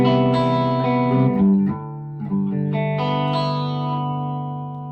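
Electric guitar played through a cranked Mesa Mark IIB+ loop-mod amp pushed into power-tube distortion, sustained saturated chords ringing loud and close with a brief dip midway before swelling again.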